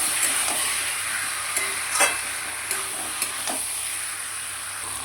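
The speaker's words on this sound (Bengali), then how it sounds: "আলুগুলো দিয়ে এবার ভালো করে কষাবো।" Potatoes and a fish head are stir-fried together in a pan, giving a steady close sizzle with a few scraping stirs and clacks throughout and no talking.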